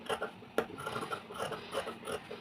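Scissors snipping through blouse fabric while cutting a back neck design, heard as a few soft, raspy close-up cutting strokes at a quiet level.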